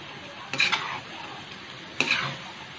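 Beef karahi with yogurt stir-fried in a pot: two short, close scraping stirs about a second and a half apart over a low, steady sizzle.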